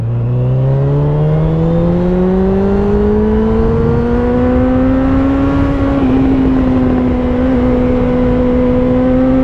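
A Suzuki GSX-F 600 motorcycle engine accelerates, its whine climbing steadily in pitch, then dipping for a moment at a gear change before it pulls on again, loud and close with no talk.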